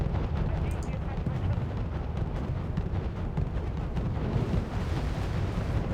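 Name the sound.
naval gunfire and explosions in Wargame: Red Dragon video game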